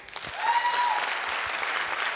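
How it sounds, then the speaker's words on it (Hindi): Audience applause at an Asclepius Wellness company event in Jaipur, a short burst of steady clapping with a faint tonal whistle partway through. "मैं चाहूंगा एक बार जोरदार तालियां आप सभी के लिए"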